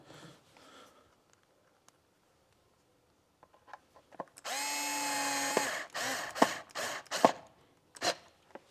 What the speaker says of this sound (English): These are just self-tappers going into plastic, so it's easy to do.